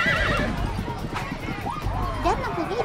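Horses neighing and whinnying during a pasola mounted contest on savanna ground, with clip-clop of hooves underneath, loud and close, repeated whinnies over a busy, noisy field.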